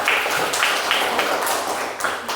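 Audience applause at a Christian values class presentation: a dense, steady wash of many hands clapping, moderately loud and continuous, with no voices over it.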